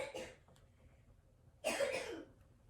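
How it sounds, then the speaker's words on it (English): Two harsh coughs from someone in a quiet room, one short and a louder, longer one about a second and a half later. "We still have that residual coughing going on."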